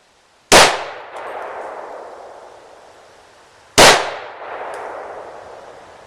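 .308 Winchester rifle fired twice at a wood target about 15 yards away, two sharp, loud outdoor reports a few seconds apart, each trailing off in a long echoing decay; no talking.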